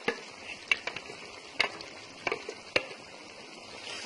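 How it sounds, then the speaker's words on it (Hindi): A spoon scraping and stirring browned onion and yogurt into chicken karahi over a low flame, with soft sizzling and a few sharp clinks against the pan. "और इसको राइट हैंड से मिक्स करते हैं"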